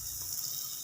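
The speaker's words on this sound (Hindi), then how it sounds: "अब इसके अंदर पानी डाल देंगे" Water is poured into a pan of cooking vegetable noodles, a steady hissing gush that runs throughout the short stretch without pause.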